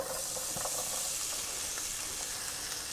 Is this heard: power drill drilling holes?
no